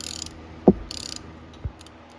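A ratchet loosens a 10mm hose fitting during a thermostat replacement on a Nissan D21 pickup, with two distinct clicks and faint ratcheting close by and no talking.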